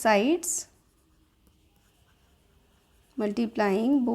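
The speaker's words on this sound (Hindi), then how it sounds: "तो हम ऐसे लिखेंगे मल्टीप्लाइंग बोथ" Faint marker or chalk strokes as a maths equation is written on a board in a classroom lesson, a quiet stretch of light scratching set between spoken explanation at the start and end.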